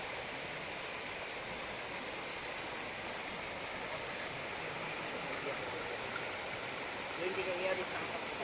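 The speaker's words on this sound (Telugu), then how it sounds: "వాటర్ ఫాల్ అంటారు దీన్ని." A small waterfall near Schliersee lake in Bavaria rushes in a steady, unbroken wash of broadband noise for the whole stretch, with a faint brief tonal sound near the end.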